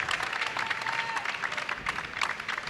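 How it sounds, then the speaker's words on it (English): Applause from spectators at a collegiate team bowling championship, brisk continuous clapping at moderate level, slightly distant and crowd-like, filling the whole short stretch with faint murmur beneath. "a well-deserved round of applause"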